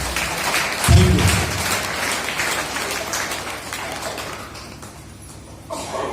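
An audience at a seminar claps together in a brisk burst that rises sharply, then softens into lighter, scattered applause, with a brief low thump near the start.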